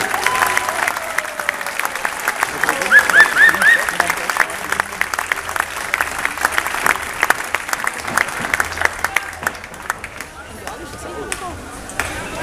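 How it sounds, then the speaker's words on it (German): Crowd applause for the top three beach volleyball teams at the Coop Beach Tour 2015 prize ceremony in Olten, a loud, sustained patter of many hands, likely outdoors, with a few brief tonal chimes early on. "der Applaus für die besten drei Teams hier in der Cup Beach Tour 2015"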